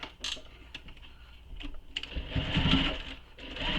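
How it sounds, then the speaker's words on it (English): A sewing machine bastes the sides and bottom of a satchel, with a few sharp clicks and handling taps followed by a short, building burst of rapid stitching nearby. "And now I'm going to baste the sides and the bottom together."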